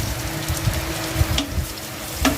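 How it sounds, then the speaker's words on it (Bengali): Two medium chopped onions fry in oil with cumin for a mixed dal tadka, giving a steady low sizzle and bubbling throughout with a few soft stirring knocks and no talk. "পেঁয়াজটা ভালোভাবে লাল লাল করে ভেজে নিতে হবে।"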